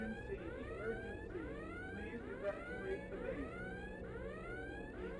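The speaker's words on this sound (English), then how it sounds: "you can hear the alarm ahead of us" In an audio video game, an alarm ahead repeats a rising, warbling tone in a steady cycle, faint and distant over a low background rumble.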